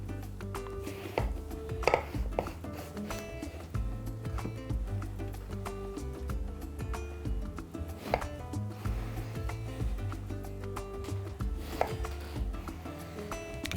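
A knife cuts an eggplant lengthwise into four on a board, giving repeated soft chopping taps and board knocks at close range, heard without voices.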